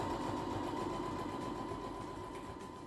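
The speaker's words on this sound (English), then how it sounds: "you can pick up right where you left off and continue sewing." A sewing machine stitches a fabric napkin in a fast, steady mechanical whir with a regular rapid pulse, close and fairly loud, fading slightly toward the end with no talk.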